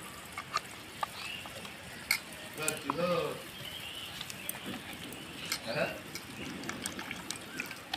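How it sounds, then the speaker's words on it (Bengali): A paste of mustard, poppy seed and rice is mixed with water, giving soft, intermittent sloshing and light clinks of stirring at close range, with a voice talking alongside. "এখানে যে আমি সর্ষে, পোস্ত আর চাল মগজ দিয়ে যে একটা পেস্ট বানিয়েছিলাম, এটাকে একটু জল দিয়ে গুলিয়ে নেব"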